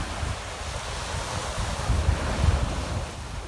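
A waterfall in Guadeloupe roars as a dense, steady rush of falling water, heavy and close in the low end and buffeted by wind against the microphone, with no voices.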